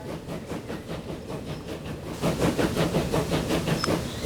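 A steam train in the video game Transport Fever 2 chugs along with regular rhythmic puffs and hissing, growing louder and busier halfway through, with no voices.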